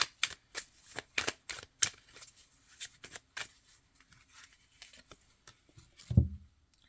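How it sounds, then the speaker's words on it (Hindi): Tarot cards handled and drawn from a deck: a run of crisp, close card snaps and flicks at an uneven rhythm, ending with a soft thump as a card is set down, no voices. "मैं एक कार्ड और निकालती हूँ।"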